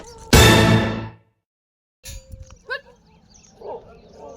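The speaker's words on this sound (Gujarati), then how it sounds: "અને જો કુતરા અમને જોઈને તો ભણવા માંડ્યા." Dogs bark outdoors by a roadside: one loud, close bark bursts out, then after a pause come a few shorter, quieter yelps and barks.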